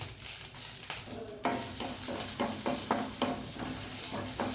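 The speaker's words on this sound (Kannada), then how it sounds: "ಇದು ಸ್ವಲ್ಪ ಕರಿ ಲೀವ್ಸ್ ಸ್ವಲ್ಪ ಫ್ರೈ ಆಗೋ ತನಕ ಇದನ್ನು ಹುರಿದುಕೊಳ್ಳೋಣ" Curry leaves and chillies sizzle and spit in hot coconut oil for a Mangalore-style pomfret fish gravy, with steady frying crackle, a few stirring scrapes and a loud, close, continuous sizzle with no talking.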